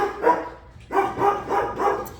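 A little puppy barks close by in a quick series of four high, yappy barks, the first set apart by a short pause and the rest coming in steady rhythm.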